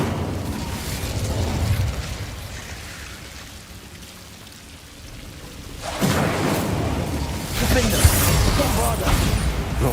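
The Incendio fire spell in the game Hogwarts Legacy erupts in a loud crackling, roaring burst of flame, with a whooshing blast and pops, after quieter ambient game sounds; a voice speaks over parts of it.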